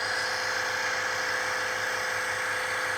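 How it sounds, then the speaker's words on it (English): A loud gas-powered engine machine runs under a roof, its steady droning hum echoing continuously without a break. "This is a really loud machine."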